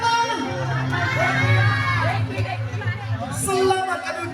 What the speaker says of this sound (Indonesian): boleh tepuk tangan sekali lagi untuk nomor urut berapa?